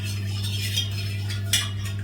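A utensil scrapes and clinks against a cooking pot while ingredients are mixed together, soft irregular stirring over a steady low hum, with a brighter scrape near the end.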